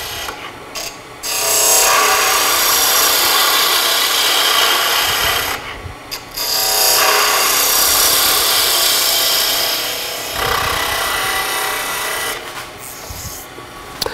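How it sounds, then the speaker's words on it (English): A lathe tool cuts spinning wood while a toy top is turned, a loud, steady rasping scrape that runs in long stretches and breaks off for brief pauses between passes, close and without talk. "I'm going to come in with the tip of the tool vertical, make the entry, and once I get an entry in, then I can start rotating around."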